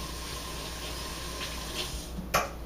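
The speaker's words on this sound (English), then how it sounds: "I just want to rinse my hands quickly here." Water runs steadily from a kitchen tap as hands are rinsed, a soft close hiss with a brief splash near the end.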